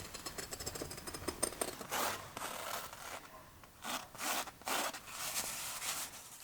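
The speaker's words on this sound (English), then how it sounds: "then I'm gonna cut the pieces out of the fabric with my very old sewing scissors" Old sewing scissors cut through fabric with soft, rasping strokes in short bursts, quiet and close.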